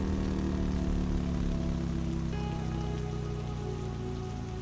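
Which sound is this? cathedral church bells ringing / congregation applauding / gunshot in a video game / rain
rain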